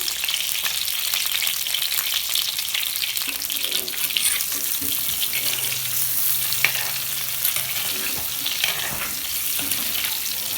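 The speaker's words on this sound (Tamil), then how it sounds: "நம்ம மசாலா தடவி வச்சுருக்கக்கூடிய கத்திரிக்காயை போட்டு பொரித்து எடுத்துடலாம்" Masala-coated brinjals fry in hot oil, a loud, continuous sizzle and crackle with occasional stirring scrapes and a faint low hum in the background, no talking.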